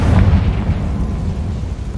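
In Hogwarts Legacy, a Confringo fire spell detonates with a loud, deep, rumbling blast. The boom fills the short moment and decays into a low roar.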